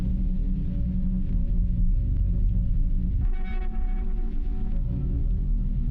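Sample chops pitched down an octave and run through a bass drive pedal with the high end cut, giving a dense, murky low rumble with a faint hazy upper layer, steady and ambient throughout with no talking.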